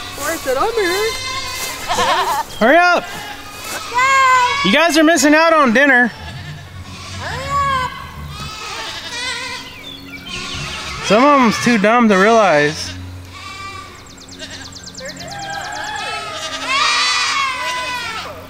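Several goats bleat loudly and repeatedly, some cries high and wavering, while a person calls out over them.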